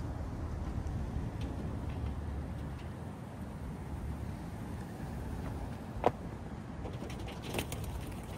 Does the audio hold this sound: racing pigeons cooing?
yes